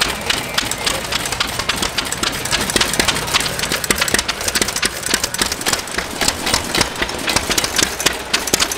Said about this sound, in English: This machine behind me might sound loud and obnoxious, but it produces some of the best ice cream in the world, Beekman's ice cream.